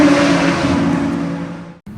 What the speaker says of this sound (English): I can see cars are back on the track again